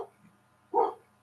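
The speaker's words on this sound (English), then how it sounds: "My dogs are barking." Dogs bark once in a short, fairly loud burst at a household where a hi-fi amplifier and speakers are being discussed, with a faint low yelp just before.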